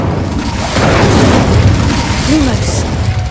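The Incendio fire spell in Hogwarts Legacy erupts as a loud, sustained roaring whoosh of flame with a deep boom. A short voiced sound rises briefly over the blaze.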